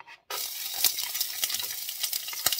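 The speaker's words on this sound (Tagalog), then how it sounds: "Igisa lang natin ang ating garlic, onions, at saka chili." Garlic, onions and chili sautéing in olive oil for chicken feet, starting with a sudden loud sizzle as they hit the hot pan, then continuous crackling and stirring scrapes close by.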